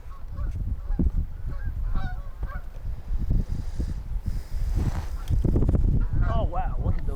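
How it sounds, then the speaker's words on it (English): A flock of geese honks repeatedly from a distance, calls overlapping, with people talking quietly underneath and a breezy outdoor background. "look at those geese"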